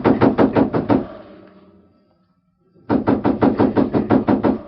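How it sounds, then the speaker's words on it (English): Sharp knuckle knocks on a ranch house door come in two rapid bursts of about half a dozen raps each, loud and close, separated by a brief pause. "someone knocked sharply on the door"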